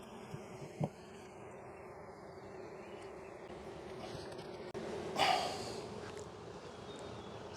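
Honeybees buzz in a low, steady drone around an open hive during a frame inspection, close and continuous, with a few faint handling knocks and breaths but no clear talk.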